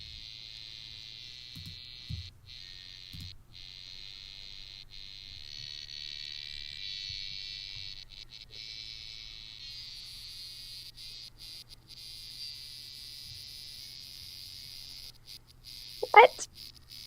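A steady high cicada drone buzzes continuously at moderate volume, with faint low thumps and a brief sharp sound near the end.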